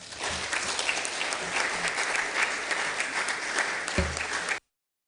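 Audience applause at an evening Founder's Week programme welcoming Emerita Professor Kwakye to the stage, steady dense clapping filling the room for about four and a half seconds before cutting off abruptly.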